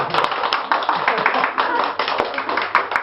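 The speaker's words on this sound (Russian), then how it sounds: "И аплодисменты для Катерины." Audience applause in an indoor room, a close, busy round of clapping from many people that stays loud and steady throughout, mixed with some voices and a low electrical hum.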